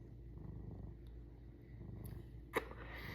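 A cat purrs close by in a steady low rumble, with a brief sharp click partway through.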